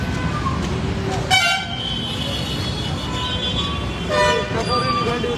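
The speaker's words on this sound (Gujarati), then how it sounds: "હોર્ન લાગે છે મોટા મોટા." Loud vehicle horns honk repeatedly on a street in the Puna area, among traffic and a car without a number plate, with long horn blasts over steady road rumble and voices talking nearby.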